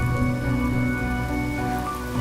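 Steady rain falls in the game Honkai: Star Rail, a dense continuous wash of droplets layered over sustained tonal music, with no voices.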